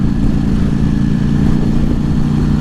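2018 Ducati Panigale V4S engine pulling in top gear, a loud, steady, deep mechanical drone with a constant throbbing rumble heard up close from the rider's position.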